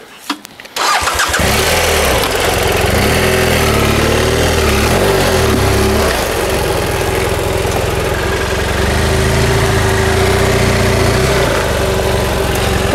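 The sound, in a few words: off-road motorcycle engine idling on a trail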